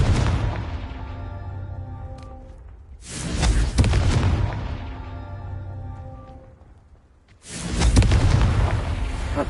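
Confringo spell blasts in Hogwarts Legacy, two loud booming explosions a few seconds apart, each bursting suddenly and rumbling out in a long fading tail.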